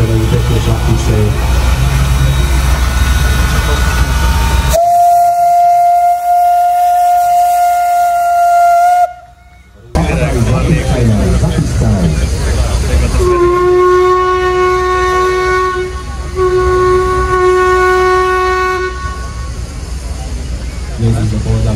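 Steam train at an air festival in Piešťany, Slovakia: a loud steady whistle tone, then a multi-tone whistle blowing at length over the heavy rumble of the passing train, with crowd noise and voices underneath.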